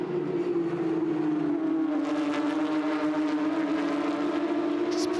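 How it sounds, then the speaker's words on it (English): Porsche race car engines at a NextGen NZ Championship circuit race drone steadily down the straight, a continuous loud engine roar with a sustained tonal hum and shifting pitch as the pack of cars passes. "we hear that beautiful sound of those Porsche engines"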